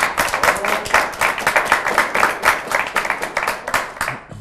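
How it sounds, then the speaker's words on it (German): An audience applauds a Hannover 96 goalkeeper honoured as best footballer of 1997, steady dense clapping from many hands filling the whole stretch, fairly loud and continuous without a break. "Das gibt nochmal Applaus."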